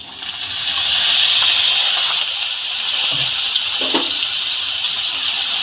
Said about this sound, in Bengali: সিদ্ধ করে রাখা ডুমুরগুলো আমি তেলের মধ্যে দিয়ে দিলাম